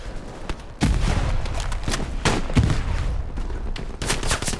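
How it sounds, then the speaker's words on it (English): Bren light machine gun firing in the World War II shooter Hell Let Loose, loud repeated bursts and single shots across the whole stretch with a few brief lulls, heard alone without talk. "the Bren gun's actually kind of warming up to me now that I'm figuring out how to use"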